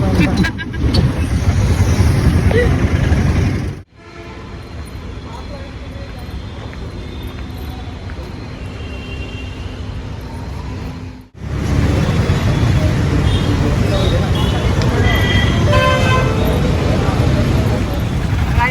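Riding an electric rickshaw through the roads of Kolhapur: continuous roadway rumble and passing traffic, briefly dropping to a quieter stretch before the loud road noise returns, with people talking over it.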